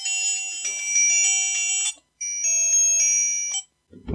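A cheap ten-dollar mobile phone plays a bright, tinny electronic ringtone melody, loud and close, in two phrases split by a short gap, then a soft rustle.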